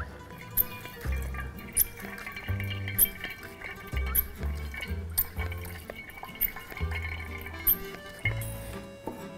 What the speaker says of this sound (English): So I'm gonna start pumping and you're gonna see the espresso come out the bottom here.